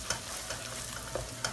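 A spoon stirs carbonara sauce in a hot frying pan, soft scraping strokes and a few sharp clicks against the pan over a gentle, steady sizzle.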